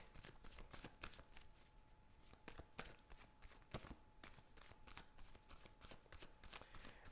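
Tarot cards shuffled by hand during a love-prediction reading, a steady run of soft riffling flutters and light slaps repeating through the whole stretch, close and fairly quiet, with no talking.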